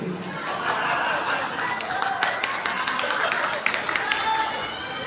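An audience at a religious sermon in Jeddah, Saudi Arabia claps, a moderate, sustained patter of many hands mixed with crowd murmur and chatter, heard at some distance.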